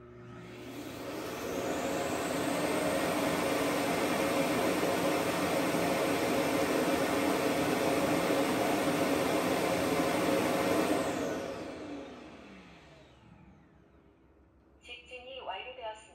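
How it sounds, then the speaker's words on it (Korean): An Inos R7 robot vacuum's clean station runs its strong suction to empty the robot's dust bin, a loud steady whooshing roar that holds for about ten seconds, then winds down and fades, followed by a few faint beeps. "이 클린 스테이션이 로봇 청소기 먼지통에서 이제 먼지를 집진할 때 3만 파스칼의 강한 힘으로 흡입을 진행하고"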